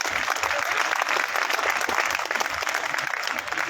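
A large audience in a pavilion at a Rajasthan state ministerial employees' federation gathering bursts into sustained, dense clapping for two women, loud and continuous with a faint murmur of crowd underneath.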